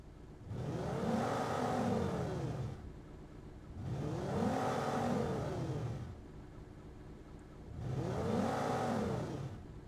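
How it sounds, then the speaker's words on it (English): A custom robotic movement effect built from a whirring motor, heard as three separate sweeps of several seconds each that rise and then fall in pitch, straining as if under load, with short silences between them and no voices. "The load is causing it to sound like the robot maybe has a little bit of restraint, a little bit of torque on it."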